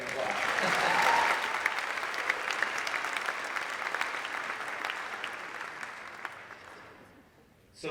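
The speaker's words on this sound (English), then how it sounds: "Go ahead, you can clap." An audience at a university state-of-the-address event applauds steadily for several seconds, a dense, loud wash of clapping that peaks early and gradually tapers off into quiet.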